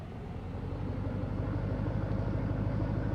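A car's engine droning steadily as it climbs a steep incline on new tires in a roleplay video game, a low continuous rumble that swells slightly in loudness, with no talking.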